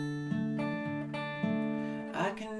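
Acoustic guitar playing the first measure of the chorus, with plucked bass and treble strings pinched together in a steady rhythm, ringing notes close and clear, no talk.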